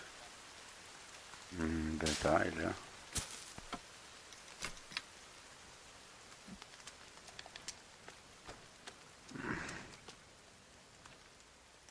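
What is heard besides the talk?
rain in the video game The Forest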